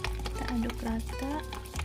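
Spoon stirring a Lebanese vegetable salad seasoned with pepper and sugar, a soft continuous mixing sound close by, with a voice speaking over it.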